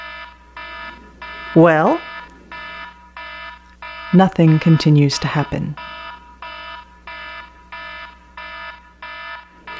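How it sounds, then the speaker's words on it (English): An electronic alarm beeps in a steady, regular pattern throughout, continuing unchanged while a couple of people speak briefly over it. "The alarm continues to sound."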